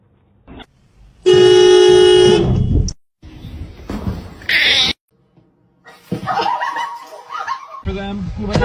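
A male house cat vocalizes indoors in a short, loud, harmonic meow of about a second, followed by softer cries, with people talking and reacting around it.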